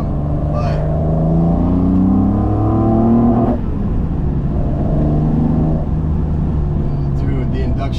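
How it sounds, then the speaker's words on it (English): Inline-six M30 engine in a BMW E28 fitted with individual throttle bodies, a full exhaust and standalone ECU, revving hard with a howling induction roar, two sustained rises that drop off around midway, loud and close with a voice speaking over it. "the induction noise is crazy. It's like a howl."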